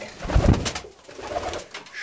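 Pigeons coo at close range in a breeding loft, one low throaty coo standing out and softer cooing and rustling around it, with no talk.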